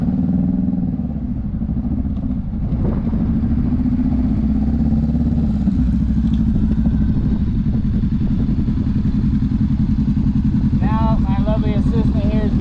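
A motorcycle's engine runs with a steady mid-pitched chug during a braking demonstration, slowing toward a stop while someone talks over it throughout.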